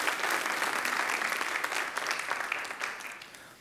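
Church congregation clapping during a Bible teaching session, a steady wash of many hands applauding together at moderate loudness, tapering slightly toward the end.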